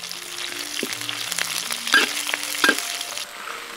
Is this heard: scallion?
yes